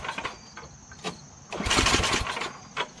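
A Tecumseh snowblower engine on a Yard Machines unit, with a carburetor fault, cranks repeatedly and sputters without catching, close and fairly loud with no talking.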